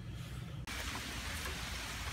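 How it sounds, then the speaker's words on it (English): Rain falls outdoors with a dense, continuous hiss close by, steady throughout except for one momentary dropout, with no voices. "it started raining again"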